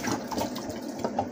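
Water pours steadily into an aquarium with gurgling, splashing sounds, close and fairly quiet, with no voices.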